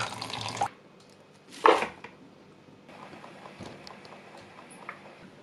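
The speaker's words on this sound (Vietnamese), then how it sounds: "Rồi rửa sạch, mình quay cho khô ráo." Cut cabbage is rinsed under a kitchen tap, with two short bursts of splashing running water, then quiet dripping and faint handling sounds.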